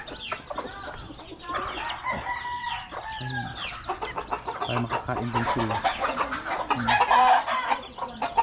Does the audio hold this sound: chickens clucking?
yes